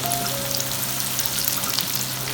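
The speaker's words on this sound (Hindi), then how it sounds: "प्याज हमारा फ्राई हो रहा है।" Two medium-sized onions fry in a pan for dal karela sabzi, giving a brief, dense, moderately loud sizzle with fine crackling throughout.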